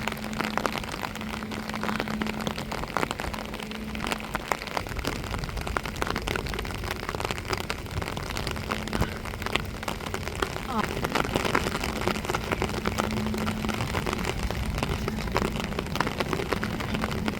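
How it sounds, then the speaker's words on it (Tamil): Heavy, unbroken rain pours down over a seaside village beach, a dense steady hiss that fills the whole stretch, with a voice speaking over it at times. "மழை சரியான மழைங்க எங்கள் ஊரில் பாருங்க"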